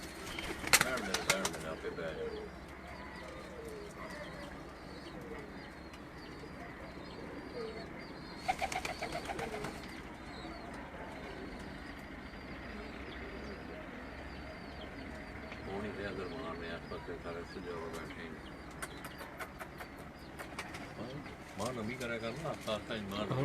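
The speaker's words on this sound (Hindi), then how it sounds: "ये वो गर्ली ब्रीड के जो कबूतर हैं" Giraldi breed pigeons coo at a loft, soft repeated calls mixed with occasional wing flaps under steady talking and background noise.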